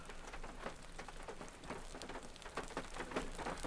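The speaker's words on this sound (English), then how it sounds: "It looks like the rain set in now." Steady rain patters softly and continuously, a faint wash of drops on surfaces with no voices.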